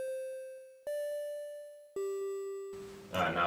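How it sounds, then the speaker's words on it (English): FamiSynth 8-bit chiptune synth notes with a built-in analog-style delay, three clean square-ish tones each ringing on with faint echoes, then a louder burst of noisy, buzzy sound at the end. "so it's just a very standard analog-y sort of delay"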